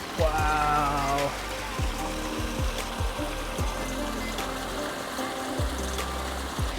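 A small rushing creek beside a trail near Narada Falls in Mt. Rainier National Park gives a steady, broadband water roar close by, with a low voice speaking under it.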